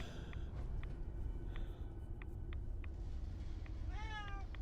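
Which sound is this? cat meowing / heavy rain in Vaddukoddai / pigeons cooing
cat meowing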